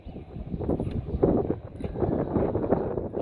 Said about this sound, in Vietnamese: gió rất là mạnh